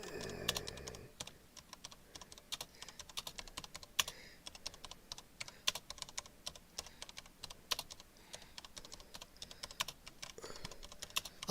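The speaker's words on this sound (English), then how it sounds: "I'm actually a slightly better typer than this when the mic's not in my way." Fingers tapping on a computer keyboard in irregular bursts, close and crisp key clicks with short pauses between words, quiet room otherwise.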